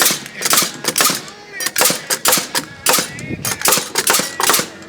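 Pneumatic air nail gun driving nails into sheet flooring over joists, a rapid run of loud sharp pops repeating in quick clusters, close by.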